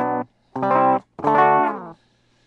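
Dry electric guitar with no reverb: three separate notes or chords, each cut off cleanly into silence between them.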